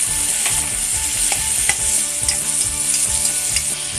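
Tomatoes fry in hot oil with onion tempering for a Malvani-style clam gravy, giving a steady loud sizzle broken by rhythmic scraping clicks as a spoon stirs the pan, with no voices.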